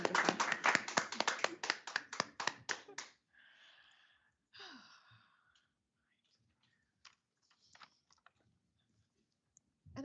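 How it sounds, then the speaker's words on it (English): An indoor audience at an opening ceremony claps in a fast, dense burst for a few seconds, then it dies away to scattered faint claps and small noises. "Oh, you're allowed to clap."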